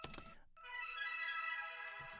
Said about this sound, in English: And then added these wind chimes,